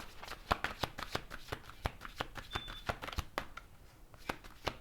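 A deck of Fairy Wisdom Oracle cards is shuffled by hand, with quick riffling flicks repeating in an uneven rhythm, close and fairly quiet, and no speech.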